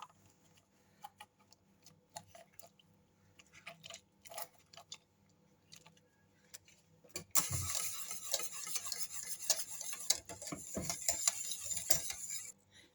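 A utensil scrapes and clinks against a bowl while profiterole cream made with sugar, vanilla and cream is stirred, with sparse taps at first and then a steady, busier stirring rhythm at close range.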